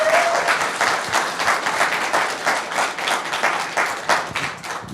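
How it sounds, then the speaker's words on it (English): Audience clapping after a security conference talk, many hands applauding in a fairly loud, pulsing rhythm throughout, with no voices over it. "Yeah, clap first"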